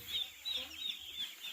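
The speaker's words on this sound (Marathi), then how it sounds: "आणि एवढे सगळे पोल्ट्री फार्ममध्ये पिल्ले आहेत." Chicks on a poultry farm give a few short, high-pitched cheeps in a regular rhythm, faint and close, with low background noise underneath.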